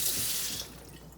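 A faucet pours tap water over celery stalks for a final rinse, a short, close rush of water hitting the sink that fades quickly.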